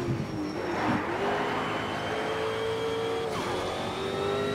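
A Jaguar race car engine drones steadily in Need for Speed Shift 2 Unleashed, a loud continuous howl with pitch dipping and climbing through gear changes and a sharp shift near the end.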